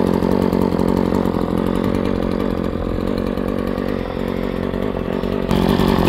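A Husqvarna 322L string trimmer fitted with a steel blade runs close and loud, its two-stroke engine holding a steady raspy buzz with a slight rev rise near the end, no voices over it.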